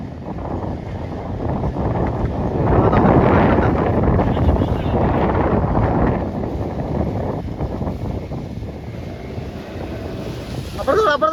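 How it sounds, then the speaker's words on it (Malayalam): Strong wind roars and buffets close against the microphone, swelling louder midway then easing, with water and a fishing boat's rumble beneath, at sea. "കാറ്റ് ശക്തിയായിട്ട് വീശുന്നുണ്ട്."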